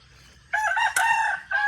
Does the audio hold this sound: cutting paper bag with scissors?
no